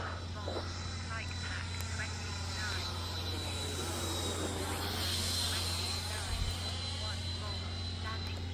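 Freewing F16 90mm electric ducted-fan RC jet on an 8S setup flying overhead, a steady whooshing turbine whine with a low drone, shifting slightly in pitch as it passes, moderately distant and continuous.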